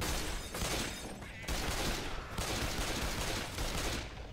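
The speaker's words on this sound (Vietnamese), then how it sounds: "Bắn mãi không hết này." Sustained automatic gunfire from the video game Left 4 Dead 2 rattles loud and dense in long continuous bursts, with talk mixed underneath.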